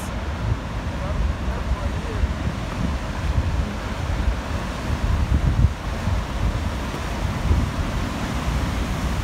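Ocean surf at Cannon Beach washes steadily against nearby rocks, a dense continuous rush with heavy wind buffeting the microphone throughout.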